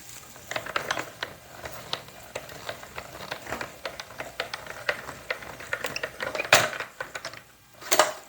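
A die-cutting machine is cranked by hand to cut a shape for a penguin-themed mini liquor box. It gives a close, steady run of ratcheting mechanical clicks and grinding that ends in a louder clunk.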